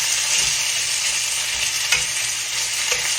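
Food frying slowly in a pan on a low burner setting, a continuous even sizzle with light scattered crackles and an occasional soft stir, close and fairly loud with no voices.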